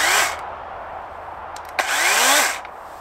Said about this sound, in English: I have to use the stealth chainsaw